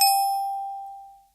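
One clear bell tone from a free VST instrument strikes alone and rings out, decaying smoothly over about a second to silence.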